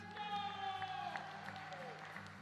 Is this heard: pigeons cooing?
no